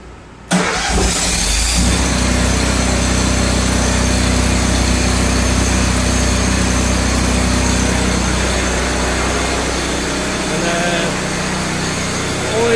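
A Miller Bobcat generator engine fires up and then runs at a loud, steady idle, a constant close droning rumble that holds without change through the whole stretch.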